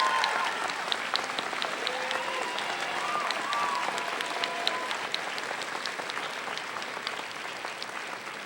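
A standing audience at a college commencement ceremony applauds in a dense, continuous patter of clapping. Scattered voices and faint whistles rise over the crowd's steady wash.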